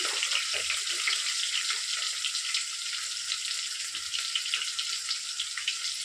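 Sambar onions sizzle and crackle steadily in a hot pan, a dense, even frying hiss that carries on close and unbroken with no talk over it.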